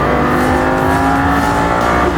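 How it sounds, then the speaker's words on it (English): A Lamborghini Gallardo engine accelerates on a race track, a loud, steady, close-up roar held at high revs for the whole stretch with no talking. "Lamborghini Gallardo has a lot of low-end torque, so it forces you to be smooth with the throttle as you're exiting your corner."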